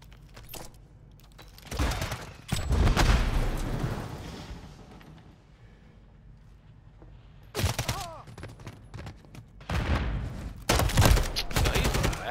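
Team deathmatch shooter gunfire comes in several loud, rattling automatic bursts separated by quieter gaps, with a voice talking between the volleys.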